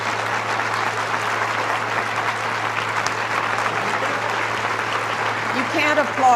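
Sustained applause from a large audience after a speaker's speech at a university women's center anniversary event, dense and even, with a voice starting to speak over it near the end.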